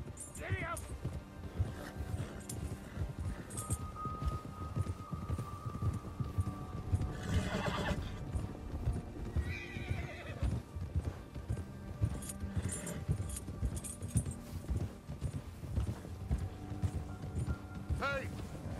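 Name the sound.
horse galloping and whinnying in the video game Red Dead Redemption 2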